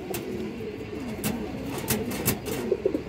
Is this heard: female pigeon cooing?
yes